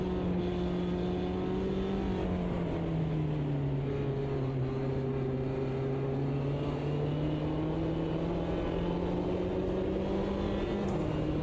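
Sim racing game race cars played on a Steam Deck, a steady near engine drone holding a high pitch that rises and dips slightly through shifts, continuous throughout with no talk.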